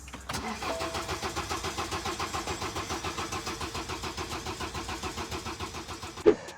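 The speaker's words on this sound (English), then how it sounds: "the car's not starting" Used car for sale with a starting fault: the starter motor cranks in a fast, even, repetitive whirr for about six seconds without the engine catching, ending with a sharp clunk as the key is released, no voices.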